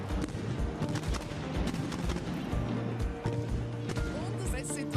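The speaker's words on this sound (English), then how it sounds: "the fireworks start flying off and exploding all over the place" Fireworks packed into a burning snowman at the Sechseläuten festival crack and pop in dense, rapid bursts, a continuous loud barrage like gunfire with crowd noise and some talk underneath.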